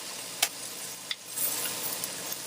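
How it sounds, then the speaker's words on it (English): Onions are stirred in a hot skillet beside seared filet mignon, giving a steady close sizzle broken by a few sharp scrapes and taps of the utensil against the pan. "Continue stirring your onions around the pan."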